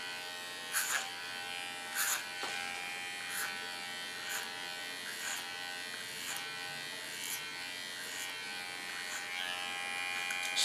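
Electric hair clipper buzzing steadily throughout a haircut, with a continuous high-pitched drone and brief louder bursts every second or so as the blades move through hair, close up, with no talking.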